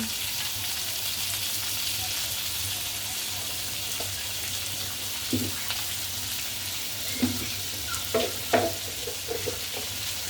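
Shrimp and water lily stems fry in a pan with a steady, loud sizzle as spices go in, followed by several scraping stirs toward the end.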